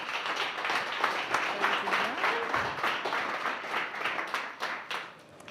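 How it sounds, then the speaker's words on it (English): Audience applause welcoming a speaker to the stage at an evening community talk, a steady wash of many hands clapping at moderate distance with some crowd murmur mixed in. "So please give a big, huge round of applause for Kim Stellavato"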